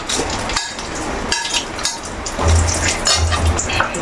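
Garlic dropped into hot oil for a spicy homemade pickle gives a steady, close sizzle and crackle with a few clinks of a spoon against the pan; no one speaks.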